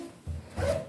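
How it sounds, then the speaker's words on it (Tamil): A zipper on the front of a thick cotton nightie is pulled in two short scraping strokes, close and quiet, with the second rasp a little louder than the first. "முன்னாடி ஜிப் இருக்குது"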